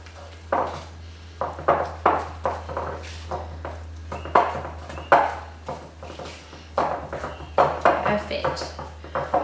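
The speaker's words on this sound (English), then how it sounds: "I'm going to use my wooden spoon and I'm just going to stir that into a dough" Wooden spoon stirring egg yolk into cannoli dough in a bowl, with irregular scraping knocks and clacks against the bowl, fairly close, alongside background hum.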